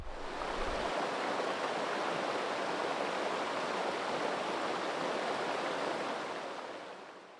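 River water flows steadily near a lochside camp at Loch Etive, a constant broad rushing wash that holds even throughout and fades slightly at the end.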